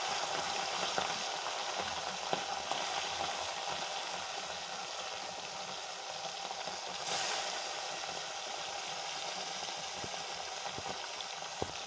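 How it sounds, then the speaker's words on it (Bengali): Bhola fish (a Ganges river fish) frying in a pan, a steady hiss of oil that keeps up for the whole stretch, with faint scattered pops and clicks and no voices. "মাছটা ভাজা হয়ে গেছে এক পিঠ, তারপর উল্টিয়ে নিচ্ছি"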